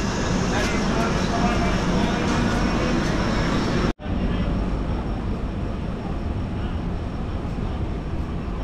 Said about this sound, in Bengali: কৃষ্ণনগর সিটি জংশন থেকে আমাদের ট্রেন ছেড়ে দিল